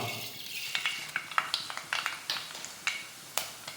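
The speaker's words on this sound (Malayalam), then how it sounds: "അപ്പോൾ കടുകൊന്ന് പൊട്ടി വന്നിട്ടുണ്ട്" Mustard seeds spluttering in hot oil in a pan, a quiet run of sharp, irregular pops and crackles, close by, over a soft background hiss.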